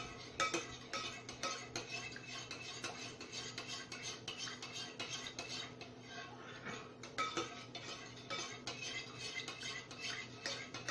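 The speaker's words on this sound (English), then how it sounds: "We want to stir that up." A utensil clinks and scrapes steadily against a bowl while wet ingredients for vegan carob chip walnut brownies are stirred, a quiet, close, continuous rhythmic clatter.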